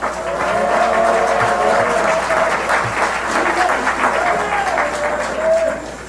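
An audience applauds at a Korean political forum hosted by the Democratic Party, with dense, steady clapping from a large room that swells and then tapers off toward the end.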